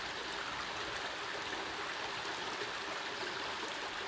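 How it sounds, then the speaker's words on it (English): A stream runs steadily nearby, a constant broadband rush and babble of flowing water with no other sounds over it. "running water sounds pretty peaceful"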